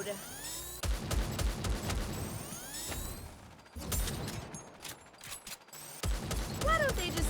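Clicks, clacks and metallic rattles of weapon handling during a reload in a video game, mixed with scattered shots and impacts, with speech heard in between.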